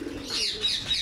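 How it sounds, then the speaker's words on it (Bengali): Pigeons give a soft, low cooing call, one brief murmuring phrase heard up close and fairly quiet. "এই দেখেন মাশাআল্লাহ অনেকগুলা কবুতর, সব গাছার কবুতর।"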